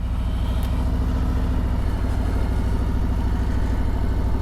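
A motorcycle engine runs at a low, steady throb with slight throttle during a slow U-turn, a close, constant rumble with a faint rise partway through.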